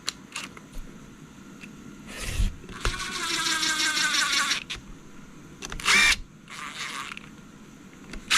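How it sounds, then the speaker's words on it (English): An electric impact driver runs screws into a BMW N54/N55 oil pump, giving a loud rattling burst of about two seconds, shorter bursts after it, and handling clicks between them. "I am going to run these in with an electric impact"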